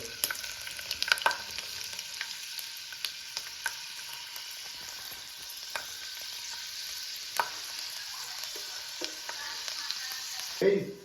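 Peanuts frying in oil in a pan for a quick pulao, a soft continuous sizzle with scattered clicks and stirring knocks, and a louder clatter at the end; no talk.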